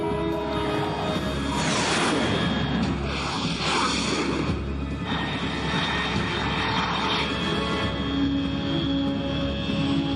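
High-altitude aircraft passing overhead in the video game Metal Gear Solid 3, heard as a steady, broad roaring drone of engine noise that holds throughout with no talking over it.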